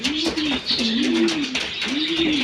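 Pigeons in a loft coo in deep, rolling, repeated phrases, loud and close, with soft rustling in the background.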